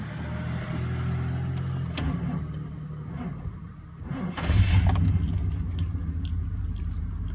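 A 1997 GMC engine with a slow-crank fault cranking on the starter: a steady, low labored churning rumble throughout, growing heavier and louder midway, with no clear catch or speech.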